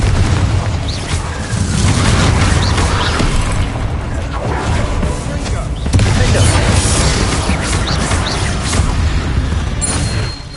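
Spell explosions from the Confringo fire spell in the Hogwarts Legacy video game, loud booming bursts and crashes over dense, continuous combat noise, with a voice casting spells through the fight.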